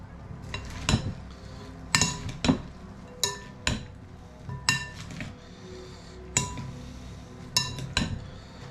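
Utensil stirring a confit gizzard salad in a pan, with repeated metallic clinks and scrapes of spoon against pan in an irregular rhythm, close and fairly loud, with no talk.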